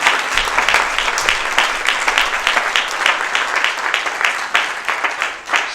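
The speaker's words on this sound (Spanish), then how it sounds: "Puede darle un aplauso al Señor en este momento, por la oportunidad" A church congregation gives sustained, fairly loud applause, with many hands clapping in a steady, dense rhythm. A low murmur of voices sits underneath.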